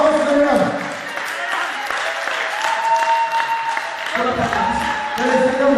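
A church congregation applauding together, a dense steady wash of clapping that swells and continues throughout, with voices and singing mixed in underneath.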